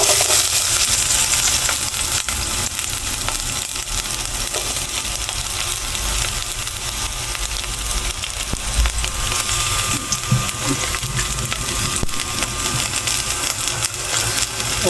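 Onion and garlic sautéing in a pan, a steady loud sizzle and crackle lasting throughout with scattered pops and light scraping, no talk.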